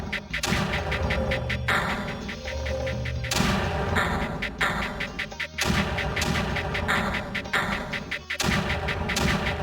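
Mortar fire in the strategy game Creeper World: a steady run of booming, gunfire-like bursts repeating about every second, each with a sharp crack and rumbling tail, loud and close with no talking.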